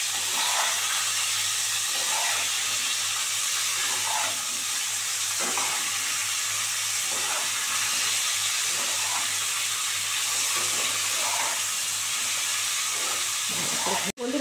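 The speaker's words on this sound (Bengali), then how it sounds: "এই যে এটা ভালো করে ভাজা হয়ে যাবে।" Cauliflower fritters fry in hot oil with a little turmeric, making a steady, close hissing sizzle with periodic soft stirring scrapes and no talk.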